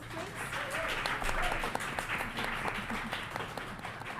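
Audience members at a live Women in STEM event at Somerset House clap for the participants, a moderate round of applause with voices talking and calling out over it.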